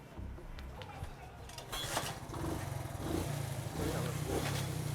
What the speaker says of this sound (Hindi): आज मैंने ना बड़ी देर चलानी है मोटर बाइक